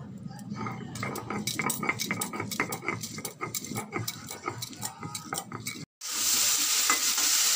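Ground ginger, cumin, chilli and turmeric paste fried together in a pan for a fish curry, with repeated stirring and scraping clinks over steady sizzling, then a brief gap before a louder, bright hiss of frying.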